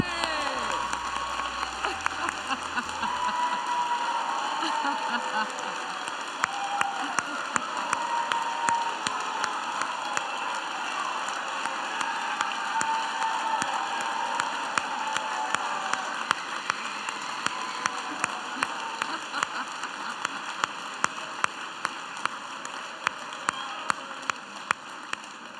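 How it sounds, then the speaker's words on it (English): Applause with some cheering rolls steadily through the crowd at a BCIT convocation ceremony, a long and dense spatter of clapping that keeps going for the whole stretch. "Give her a big round of applause."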